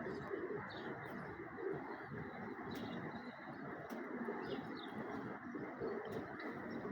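A grey two-bar racing pigeon coos softly and steadily, with faint chirps from other birds against a quiet loft background.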